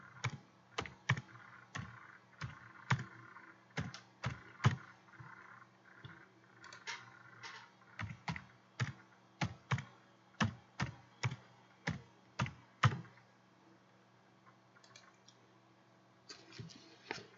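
Typing on a computer keyboard: steady runs of crisp key clicks in quick irregular bursts with brief pauses, close and fairly quiet, no voices.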